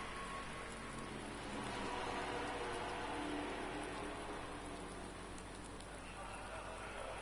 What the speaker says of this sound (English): The rain chucking it down here in Spielberg